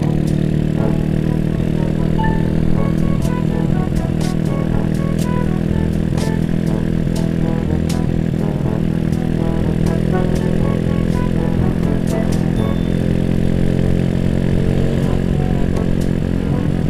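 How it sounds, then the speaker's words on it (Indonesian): A Honda Astrea Grand motorcycle exhaust, said to sound like a helicopter, gives a loud, continuous throbbing engine drone with steady rumble and sharp popping ticks while riding. "Suara knalpotnya."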